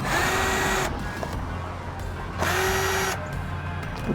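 A power drill whirs in two sustained bursts, backing screws out of a winch's packaging, with a short pause between runs and no voices.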